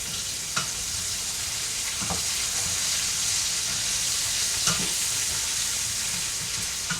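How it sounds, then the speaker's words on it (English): Ground spices, including coriander, sizzle in hot oil for a green bean and potato curry, a steady close frying hiss with a few faint clinks of a utensil. "So these spices will also bloom in the hot oil."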